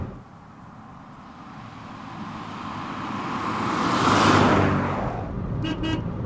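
The horn of a 1990 British classic car gives two short toots near the end. Before that, a swell of road traffic rises and fades, and no one speaks.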